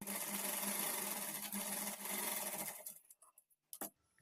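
A sewing machine runs a continuous stitch along the edge of a blouse back neck, a steady close whir that stops abruptly near the end, followed by a couple of faint clicks.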